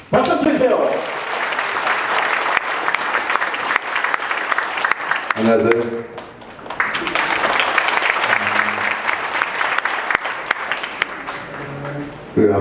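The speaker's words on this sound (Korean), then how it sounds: "박수 주세요" An audience at a Korean residents' briefing session applauds loudly and steadily, the clapping easing briefly midway as someone speaks and then swelling again, with talk returning near the end.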